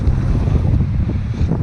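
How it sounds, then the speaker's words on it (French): Strong wind at a kitesurfing beach, gusty beside a seawall and houses, buffets the microphone in rough, gusting rushes, loud and close, with a low rumbling roar throughout. "c'est très rafaleux avec la digue et les maisons."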